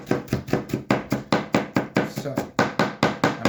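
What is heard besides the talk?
chopping onion extra small on a board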